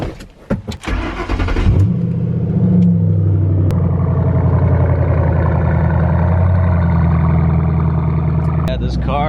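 A Shelby GT500 with a loud $2000 aftermarket exhaust fires up after a few sharp clicks, then settles into a deep, steady burbling rumble close by, ending with a brief blip.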